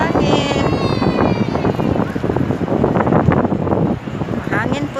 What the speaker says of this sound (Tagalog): Hangin po sa labas.